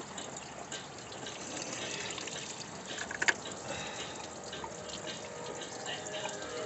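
Steady running water from a garden hose flushing the radiator of a 2003 Chevy Impala with a 3.4 liter engine in a backyard, a continuous hiss and splash with one brief louder splash midway.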